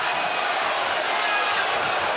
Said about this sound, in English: Listen to them singing.